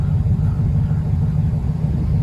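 A car engine idles with a steady low rumble during a brake light test, close and continuous with no revving or talk.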